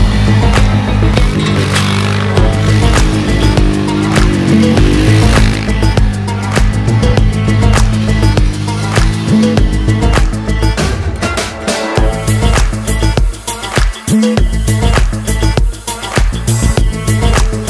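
A dune buggy with motorcycle-style controls driving across desert sand, its engine buzzing loud and close with revving surges and rattling bumps, and brief dropouts near the end.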